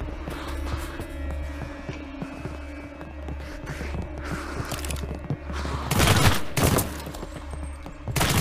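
Rapid gunfire crackles over a steady low hum in the zombie game Deathly Stillness, a run of quick shots building to louder, denser bursts toward the end.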